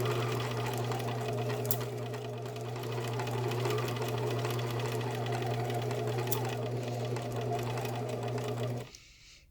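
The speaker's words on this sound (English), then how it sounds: "then I'm going to continue to sew forward." A sewing machine runs steadily while stitching a seam forward, a continuous close whirring hum with a fast even needle rhythm that cuts off abruptly near the end.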